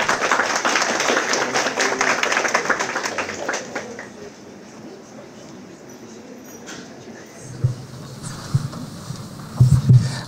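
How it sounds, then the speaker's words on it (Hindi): Audience applause at a World Hindi Day ceremony, a loud burst of clapping from a crowd that fades out over several seconds into quiet room noise with a few scattered thumps. "Ваши аплодисменты."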